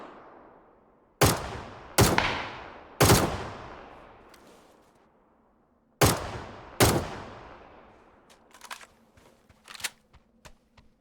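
Gunfire in the video game PUBG: five loud, sharp single shots spaced roughly a second apart, each with a decaying tail, followed by a cluster of fainter, quicker distant shots.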